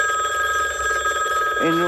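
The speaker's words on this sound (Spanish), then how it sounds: "¿Cómo reaccionarías vos si en tu casa suena el teléfono?" A telephone rings inside a house, a steady electronic trill repeating continuously at moderate volume, with a voice briefly entering near the end.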